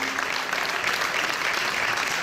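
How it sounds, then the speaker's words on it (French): A crowd at a live showcase in a Leclerc cultural space in Rochefort applauds a singer, with a thick, even wash of clapping that stays loud and unbroken throughout. "On peut l'applaudir très fort."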